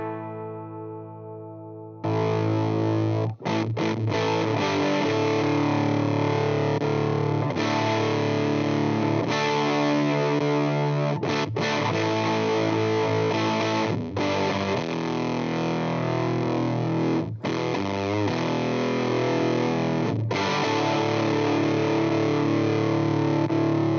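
An electric guitar played through a DIY silicon fuzz pedal modded with substitution boxes, with thick, buzzy distorted chords and riffs that sustain loudly and shift in tone, cut by brief pauses, after a softer clean opening.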